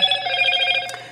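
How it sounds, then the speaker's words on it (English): A mobile phone rings at a craft table, a steady electronic warbling ringtone with bright layered tones that cuts off abruptly after about a second. "Sorry, my phone's on."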